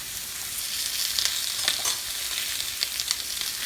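Steaks sear in a hot pan with a continuous, moderately loud sizzle and occasional crackling pops. No one speaks.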